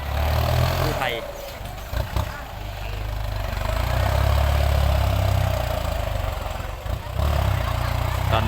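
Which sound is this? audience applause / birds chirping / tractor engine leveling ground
tractor engine leveling ground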